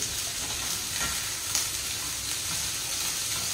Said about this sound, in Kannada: ತುಂಬ ಡೀಪ್ ಫ್ರೈ ಆಗಿ ತುಂಬ ಮೆದುವಾಗಬಾರ್ದು ಇದು ನೀರುಳ್ಳಿ